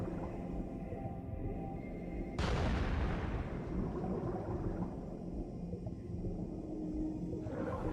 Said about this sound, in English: I can only use the grenades underwater.